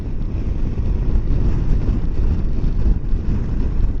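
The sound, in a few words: strong wind noise on microphone during motorcycle ride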